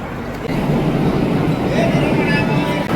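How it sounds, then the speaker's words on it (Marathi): Loud continuous rumble and rattle of a local commuter train in motion, heard close up, with a steady roar throughout. "आता मी इथून लोकल ट्रेन पकडणार"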